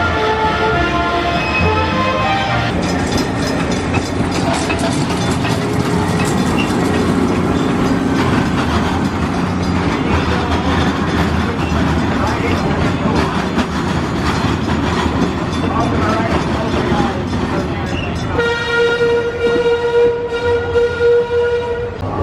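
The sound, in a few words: amusement park train ride at Six Flags Fiesta Texas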